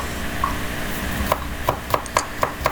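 A knife chops green chilies into very fine pieces on a board, giving about seven sharp, fairly close taps, irregular at first and then settling into a steady rhythm, with no talking.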